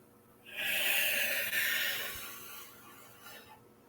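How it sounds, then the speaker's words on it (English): A forceful exhale during a meditation breathing exercise, one long, loud, breathy rush of air that swells quickly, holds, and then fades gradually over about three seconds, with no talking. "Forceful exhale back down."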